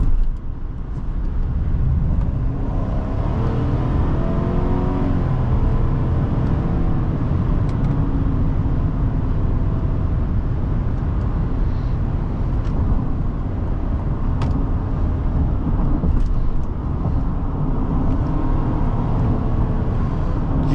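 A 2025 GMC Sierra 1500 SLT pickup truck accelerates, its engine a loud, steady low rumble that builds smoothly, heard from inside the cab along with road noise.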